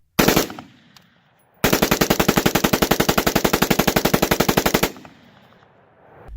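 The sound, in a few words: AR-15 rifle rapid firing with bump stock installed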